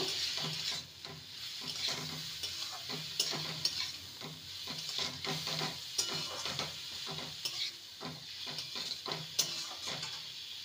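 Oats pasta being stirred in a pan with soy sauce and vinegar, repeated scraping and stirring strokes over a steady light sizzle, close and moderately loud, no talk.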